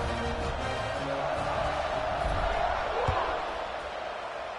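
Football stadium crowd at a college game roars steadily after a scoring drive, a dense sustained wash of cheering and voices throughout, slightly easing toward the end.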